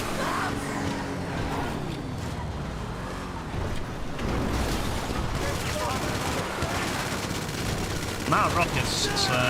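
Bullet gunfire in the PS5 game GTA Online, with bursts of shots and rapid fire crackling through a dense, continuous mix of game noise, while someone talks over the action.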